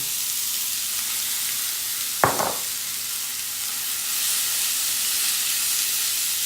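Shrimp and steak sizzle steadily in a hot pan, with a loud even hiss throughout and one brief clatter as food drops in.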